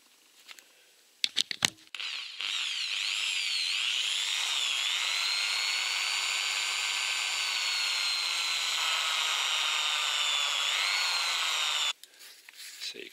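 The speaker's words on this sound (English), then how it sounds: "I have used a 2mm drill bit, and I've drilled all the way through to the other side" A power drill fitted with a 2mm bit is boring out a toilet tap screw, a high, steady whine running about ten seconds that wavers slightly in pitch, preceded and followed by a few sharp handling clicks.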